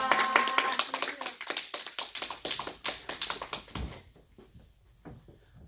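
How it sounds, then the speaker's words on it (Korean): A church congregation claps in welcome, sharp individual claps at first that thin out and grow fainter toward the end, with a voice briefly over them. "나오실 때 우리 환영의 박수 올려드리고요."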